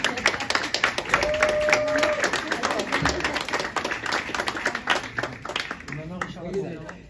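Audience clapping at a graffiti prize award ceremony, a steady dense patter of applause running throughout with people's voices and cheers mixed over it.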